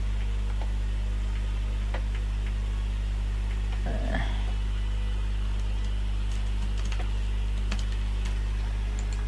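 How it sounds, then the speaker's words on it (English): Computer keyboard keys tapped while playing Roblox Pokemon Brick Bronze, soft irregular ticking clicks over a steady electrical hum, with a brief louder scrape midway. "I don't know why I'm operating my mouse using my left hand and the keyboard using my right hand"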